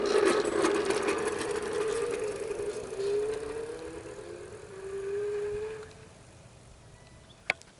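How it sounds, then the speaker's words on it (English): An Ancheer electric bicycle speeds up on throttle alone, its motor whine rising steadily in pitch over several seconds before fading, with a sharp click near the end. "So this is the acceleration that you get on throttle only."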